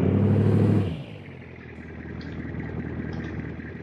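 Drag truck engine in BeamNG, struggling for power on a 100 RON fuel mix: a loud low rumble for the first second, then dropping to a quieter steady idle drone.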